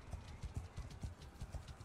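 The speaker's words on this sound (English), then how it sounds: "I'm always riding a horse most of the time." Galloping horse hooves in the Mount & Blade game, during a Carthage-era battle between Romans and horse hordes, pound in a fast, steady rhythm of close, heavy clip-clops.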